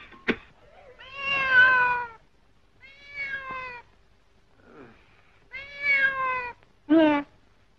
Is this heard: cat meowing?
yes